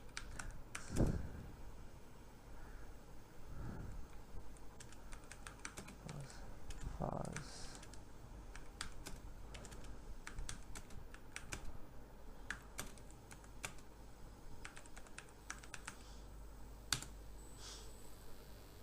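Quiet, steady clicking of a computer keyboard as a reminder is typed into Slack, with occasional louder key taps and a voice speaking faintly underneath.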